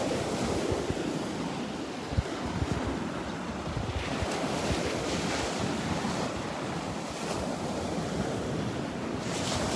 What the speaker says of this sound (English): enjoying the sounds of the waves.